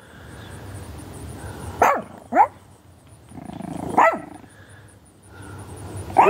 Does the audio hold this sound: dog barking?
yes